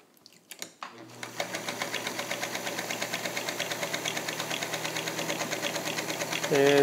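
A Singer Featherweight 221 sewing machine stitches dark blue fabric over a thick seam, running as a fast, steady mechanical chatter of evenly repeating needle strokes, close and continuous, with a few clicks and handling noises as it starts.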